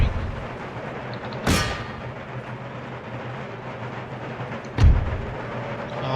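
Two sharp, loud volleys of musket fire crack out a few seconds apart on an Empire Total War battlefield, the second heavier and deeper, over a steady low ambient rumble.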